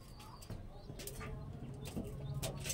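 A big, long-bodied pigeon of a high-flying breed gives soft coos and faint rustling close by, under a low background murmur.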